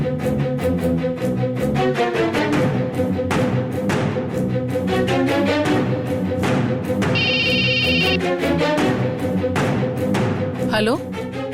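A phone ringtone sounds in a home scene from a Tamil TV serial: a short electronic ring near the middle, partly buried under loud, continuous background music.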